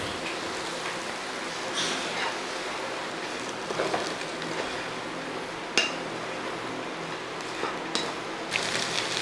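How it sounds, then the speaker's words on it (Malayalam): Soya chunks fry in a pan while being stirred: a continuous close frying hiss broken by occasional sharp clinks of the spoon against the pan. "ഇനി ഒന്ന് ഇളക്കി അങ്ങോട്ട് കൊടുക്കാം."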